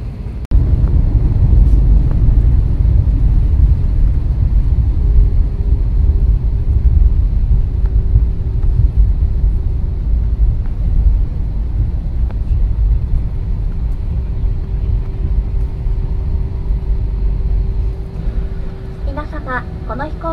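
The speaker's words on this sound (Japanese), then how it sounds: "目満別空港に着陸いたしました。" Cabin rumble inside a Peach airliner landing at Memanbetsu Airport in snowy weather, a loud, steady low roar throughout with a faint tone and a crew announcement over it.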